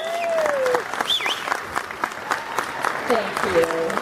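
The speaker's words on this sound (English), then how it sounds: "Everybody give them a round of applause." A crowd applauds loudly, with dense clapping that runs the full length, while voices and cheers rise over it at times.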